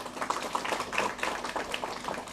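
Audience applause at a G20 seminar held at DAV College, Jalandhar: dense, steady clapping from a moderately sized crowd, continuous throughout without talk.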